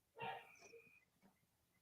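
A single dog gives a short close bark followed by a faint whimpering yip, in an otherwise quiet indoor space.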